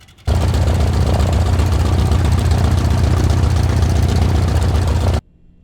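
A steady, loud, droning aircraft engine roar in flight, heavy low rumble with constant broadband noise, running unbroken for about five seconds before cutting off abruptly.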